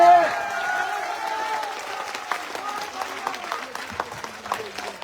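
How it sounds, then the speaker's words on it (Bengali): Audience applause rings out at an outdoor Trinamool Congress rally in Ramnagar, West Bengal, as new members join the party. The clapping is loud at first, then settles into steady, dense applause with a voice carrying over it. "সকলে করতালি দিয়ে জোরে"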